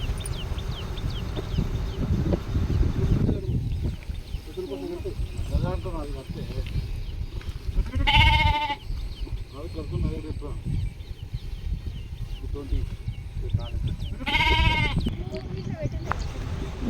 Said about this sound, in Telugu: మా బాబాయ్ మైసమ్మ దగ్గరికి గొర్రెను తీసుకొని వచ్చాడు మొక్కనికి